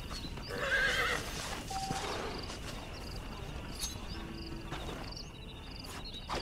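A horse whinnies loudly near the start in the video game Red Dead Redemption, followed by soft hoof clops and a faint outdoor ambience with insects.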